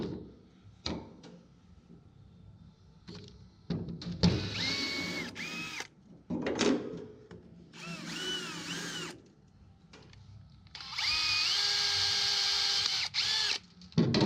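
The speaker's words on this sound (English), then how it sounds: "drill the hole for the screw to go through in both" A power drill whirs in several separate bursts with quiet gaps between, drilling screw holes while installing a boat fuel tank, each run steady and close by, ending in a longer sustained spin.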